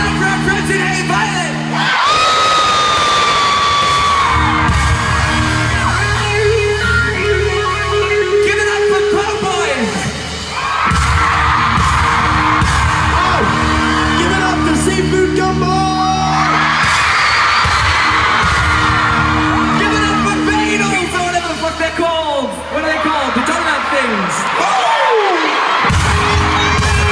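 A concert crowd cheers and yells loudly and continuously for an opening act at an arena show in New Orleans, a sustained roar of voices with whoops and shouts rising and falling.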